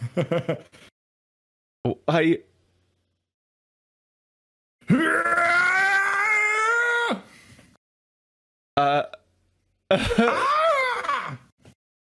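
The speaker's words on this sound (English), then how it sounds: "I did hear the Howie scream. They just slowed it down." A stock scream sound effect slowed down to a long, deep, drawn-out wail, framed by grunting and gasping vocal bursts in a film, the cries separated by stretches of silence.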